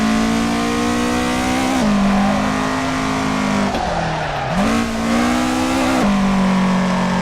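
A loud racing engine in the Assetto Corsa video game roars continuously while drifting, its pitch dipping and climbing as it shifts and revs, with tire squeal mixed in.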